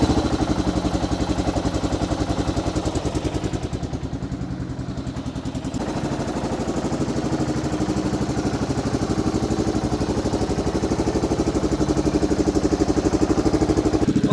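A 1985 Yamaha XT600 single-cylinder motorcycle engine idling steadily after repairs, a loud close thumping putter that barely shifts in tone from start to finish, with no talk over it.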